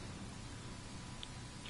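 Game rain falls in Ghost Recon Wildlands as an even, quiet wash of noise, with a couple of faint brief ticks over it and no voices.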